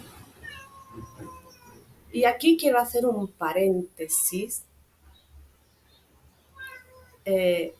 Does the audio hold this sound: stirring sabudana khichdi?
no